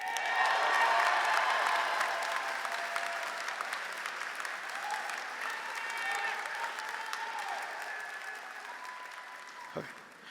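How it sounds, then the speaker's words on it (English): A crowd at a graduation ceremony claps steadily for several seconds, dense applause at moderate distance that slowly thins out toward the end. "Please give a round of applause for our first recipient, Nelson Torres."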